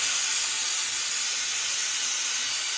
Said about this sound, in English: I'm going to give this a blast with steam and see what we can do.